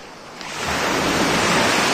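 Aegean Sea surf rushing onto the shore in a broad, steady wash that swells within the first second and then holds loud and close, with no voices.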